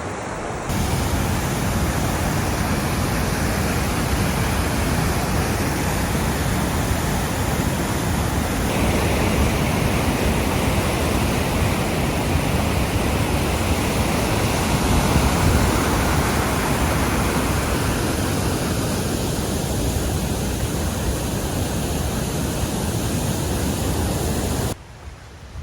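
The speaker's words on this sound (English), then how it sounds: "It's so great hearing the roar of the water." Roaring water near falls along a stream on the Appalachian Trail, a loud, continuous broadband rush heard close up and steady for the whole stretch, with no talk.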